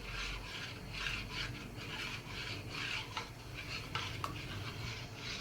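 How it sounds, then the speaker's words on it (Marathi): Wheat starch paste (chik) for kurdai stirred steadily in a vessel, giving a continuous close rubbing, scraping swish with rhythmic strokes and a couple of sharper clicks, no talking. "तो मी आता चांगला हलवून घेते व्यवस्थित"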